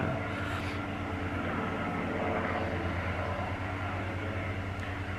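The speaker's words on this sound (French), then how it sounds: "Putain, il fait chier cet avion là." An airplane passes overhead, a steady low engine drone and broad roar that stays constant and moderately loud, with no talking.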